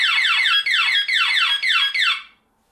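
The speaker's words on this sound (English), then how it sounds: "So when we remove the cover, it will go into alarm, which is going to be quite loud." A wired intruder alarm panel, opened by removing its cover, blares loudly and alone in repeated sweeping electronic whoops, about five cycles, before cutting off into silence.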